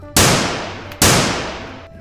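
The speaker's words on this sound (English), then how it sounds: "This is white shotgun." Toy white shotgun firing two loud, sharp reports about a second apart, each fading in a long, noisy decay.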